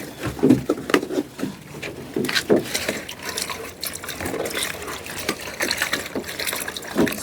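Water poured and trickling into an animals' drinking container, a steady liquid pour with gushes and patters running for several seconds at close range.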